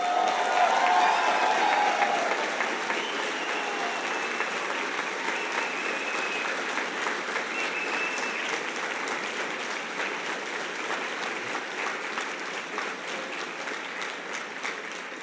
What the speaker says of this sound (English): you got 2 rounds of applause for that.